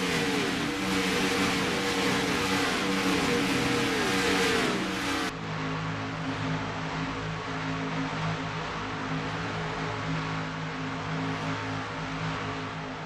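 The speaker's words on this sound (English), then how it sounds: "Let's take a listen to a little ASMR, a little flyby action of this car." A stock car in a sim racing game roars past in a loud flyby, engine revving high and then cutting to a lower, steadier drone as it pulls away, with no talking over it.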